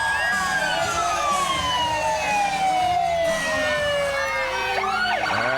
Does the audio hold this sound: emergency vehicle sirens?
yes